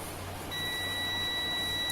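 A multimeter's continuity beep sounds while its probes touch the ground wire of a small Bluetooth speaker amplifier build: a steady, thin electronic tone starts about a quarter of the way in and holds unbroken to the end over low hum.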